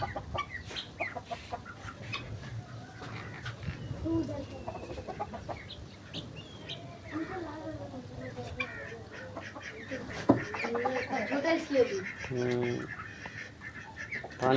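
Chickens, including a black rooster, cluck and murmur nearby, with scattered short calls, while a person talks softly over the birds.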